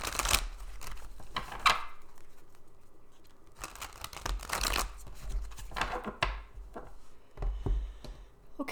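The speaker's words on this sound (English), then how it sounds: "let me give it one more quick shuffle." Cards being riffled and shuffled in several quick bursts, crisp and close, with short pauses between.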